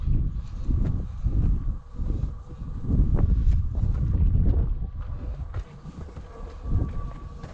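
Gusty wind buffets the microphone on a Swiss Alps mountain trail during an endurance run, a rough low rumble rising and falling in waves.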